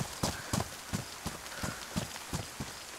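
Horse hooves clip-clop in an even walking rhythm in the video game DayZ, sharp hollow knocks repeating about every half second over a soft background hiss, with no voices.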